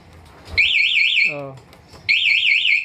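A loud Honda Beat motorcycle anti-theft alarm wails in warbling bursts, pausing briefly for a lower descending chirp before sounding again.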